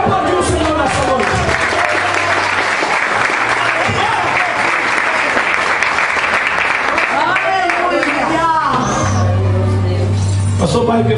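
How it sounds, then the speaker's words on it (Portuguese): A church congregation at an evening service applauds loudly and continuously, with scattered cheers and voices mixed into the clapping and a low engine-like drone running underneath. "Pode aplaudir o Senhor nessa noite."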